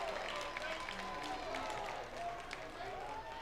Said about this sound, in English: you can hear the Greeneville crowd really start to get energized